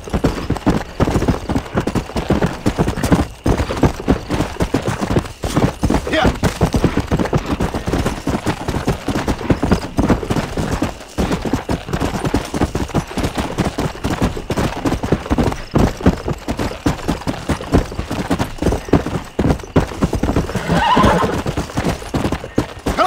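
Rapid, continuous hoofbeats of a galloping horse in the video game Red Dead Redemption pound steadily throughout, close and loud, with a brief whinny partway through.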